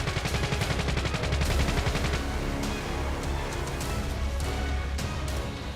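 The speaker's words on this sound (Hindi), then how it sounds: "यह अत्याधुनिक SIG 716 असॉल्ट राइफल है।" SIG 716 assault rifle fires rapid bursts of loud, sharp gunshots in quick repeating succession, dense at first and then more spaced out, with no speech over the shots.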